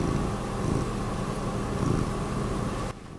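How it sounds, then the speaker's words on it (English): A close, steady rumbling purr continues for a few seconds, then drops away abruptly near the end. "Can you hear him purring?"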